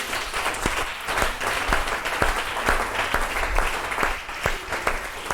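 Applause fills a church as a congregation claps and cheers in acclaim of Jesus Christ, a dense, continuous wash of hand claps with sharper individual claps standing out, lasting several seconds with no talking over it.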